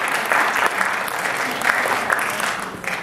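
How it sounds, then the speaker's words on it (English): An audience at a talk by Yossi Klein Halevi at Moriah breaks into loud, sustained applause, a dense wash of clapping from a full room. "please give a big round of applause for Yossi Klein Halevi"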